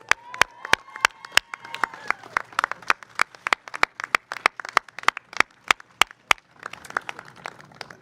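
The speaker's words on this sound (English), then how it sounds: "Let's celebrate. Come on, clap it up." Sharp, evenly spaced claps ring out at a city celebration in Columbus, a loud rhythmic beat with a looser scatter of crowd clapping and murmur underneath, fading into ragged clapping near the end.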